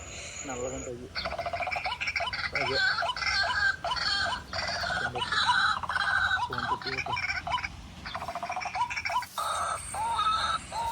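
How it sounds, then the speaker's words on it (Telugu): Several rooster calls and clucking fowl, one after another, loud and close, with people talking over them. "కోడి కూతలు"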